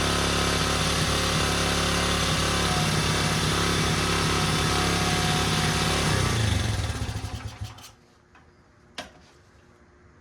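A 1977 Honda XL75 motorcycle engine runs loud and close with the choke on, a steady rattling idle that holds for several seconds, then sputters and dies, followed by a brief clunk.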